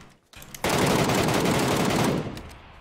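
Sustained automatic gunfire in PUBG, a loud, dense burst of rapid shots lasting about two seconds after a couple of lone cracks, then tapering off.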